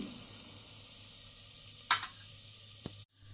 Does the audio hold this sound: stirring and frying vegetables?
yes